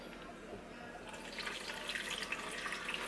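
A kitchen tap runs while residue is washed out of a cooking pot, a soft splashing flow that grows slightly busier toward the end, fairly quiet and alone.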